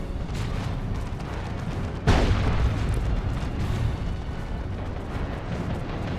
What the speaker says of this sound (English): There's that autocannon from Osinski, level 1 autocannon.